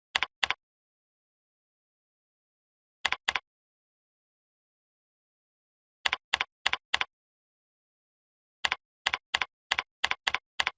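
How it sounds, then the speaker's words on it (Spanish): Computer keyboard typing as customer information is entered: short isolated bursts of rapid key clicks separated by silent pauses, crisp and close. "digitemos la información del cliente"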